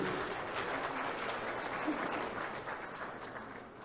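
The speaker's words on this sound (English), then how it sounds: "Let's have another round of applause for Chief Frank Dieter." Steady, dense applause from an audience, a continuous wash of clapping hands at moderate volume that tapers slightly at the end.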